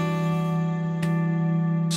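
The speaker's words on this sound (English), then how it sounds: "We've got like a pad sound." Sustained ambient pad from a guitar run through effects, a soft steady drone holding evenly with faint bright swells near the start and end.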